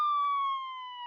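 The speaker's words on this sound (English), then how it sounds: "Suddenly, outside, they hear the sound of a siren." A police car siren wails in a single clear, loud tone that slowly falls in pitch over about a second, heard alone in an audiobook story scene.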